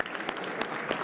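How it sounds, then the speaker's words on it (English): An audience claps briefly for panelists at an industrials and logistics business forum, a dense patter of hands that is steady and fairly close over about a second. "Round of applause for our panelists"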